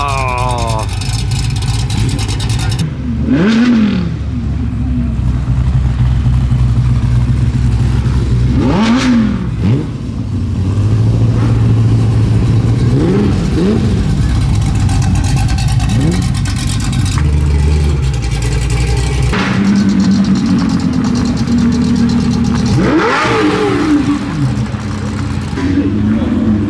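A race car engine at a supercar event revs hard in repeated loud bursts and settles back between them, close by, with people talking over it.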